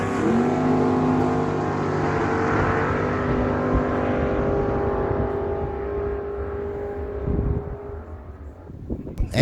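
A 2004 Chevrolet Roadster with a 598 cubic inch big block Chevy launches at a drag strip, a loud roaring engine that holds steady, then fades as the cars pull away, with a sharp burst at the end.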